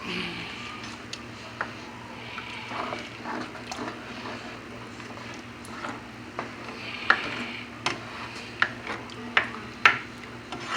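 Beef stroganoff in a pan with half and half is stirred with a utensil, giving soft scraping and a series of sharp clinks against the pan, over a faint low simmer, close by with no talking.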